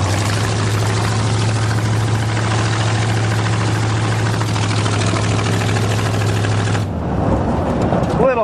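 A Buick Roadmaster with chopped custom headers runs with a loud, rough, pulsing low-pitched exhaust rumble close by, cutting off near the end as talking takes over.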